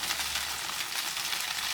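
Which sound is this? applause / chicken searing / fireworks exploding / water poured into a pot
chicken searing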